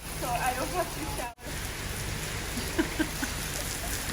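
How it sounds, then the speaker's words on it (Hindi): Heavy rain falls at Liberty Market in Lahore, a loud, even wash of drops hitting surfaces close by. The sound cuts out for a moment early on, then the steady downpour carries on with a few louder splashes. "तो खैर बारिशें तो स्टार्ट हो गई हैं।"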